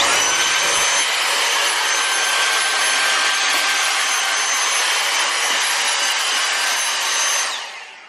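A Hoover vacuum cleaner sucks up dead flies with a steady, close, broadband roar that runs unbroken for several seconds and then winds down at the end; no talking is heard over it.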